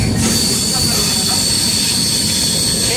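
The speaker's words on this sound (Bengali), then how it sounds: "ট্রেন কিন্তু তার গতিবেগ ধীরে ধীরে বাড়াচ্ছে" A train picks up speed, a loud close roar of wheels on rails with a steady high metallic squeal running over the rumble throughout.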